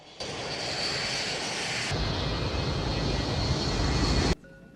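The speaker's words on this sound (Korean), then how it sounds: "비행기가 정상고도에 오르자" A passenger airliner climbs in flight with a loud, steady engine drone that swells slightly before cutting off abruptly near the end.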